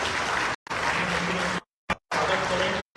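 An audience claps for Chief Minister Shivraj Singh Chouhan at a solar and wind energy project event in Bhopal. Dense, steady clapping comes in three loud stretches, separated by abrupt silences.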